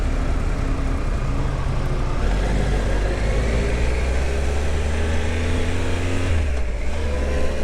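A motorcycle accelerates on the road, heard from the rider's position under a cheap helmet, a steady engine drone rising in pitch through the gears mixed with heavy rushing wind, with no talking.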